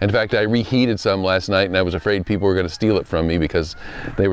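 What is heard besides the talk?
No everyday noise stands out behind the speech.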